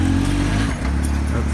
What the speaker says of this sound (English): So we're gonna try and bump start it again.